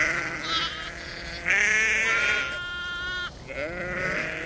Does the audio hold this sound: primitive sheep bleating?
yes